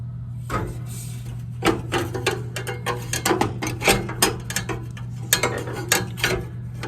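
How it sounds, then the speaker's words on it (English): Screw being removed from a heater with the breaker off: a series of close, irregular ratcheting clicks and scrapes, like a ratchet driver turning in quick bursts. "Get that screw out of there."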